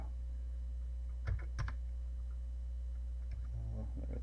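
A few slow, separate keystrokes tap on a Commodore PET computer keyboard, sparse and hesitant, over a constant mains hum with faint ticking.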